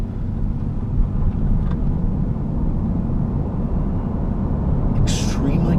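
Inside a 2017 Chevrolet Volt hybrid at full throttle in sport mode, the cabin holds a steady low rumble of road and drivetrain noise, quiet and even, while someone talks over it.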